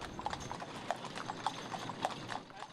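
Hooves of a ridden horse clip-clopping at a steady walk on a cross-country ride, a regular close rhythm of hoof strikes over constant background noise.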